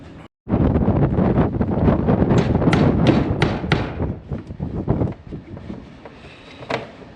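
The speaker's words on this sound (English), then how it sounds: "I'm just trying to block the wind." Wind gusting across a dairy farm in cold weather, loud rushing microphone buffeting with scattered thumps and knocks, easing off toward the end.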